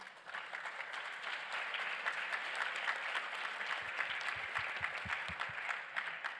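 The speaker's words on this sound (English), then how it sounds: "if I could ask you to give a round of applause for our panelists" Conference audience applauding panelists after a discussion on development finance, a steady, fairly faint wash of many hands clapping, continuous and without speech.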